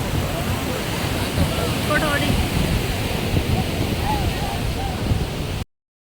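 Sea waves washing onto a beach in Kerala, a steady broadband roar of surf that holds even and close throughout, with faint voices of beachgoers mixed in.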